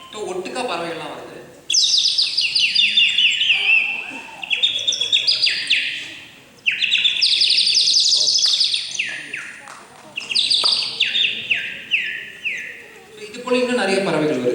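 A man whistles and vocally mimics the chirps and trills of small forest birds, in bursts of rising and falling tweets with brief pauses between phrases, loud and close, ending with a little speech.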